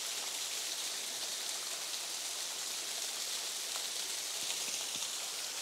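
Steady rushing white-water roar of a waterfall heard from nearby, a continuous even hiss with no breaks or voices.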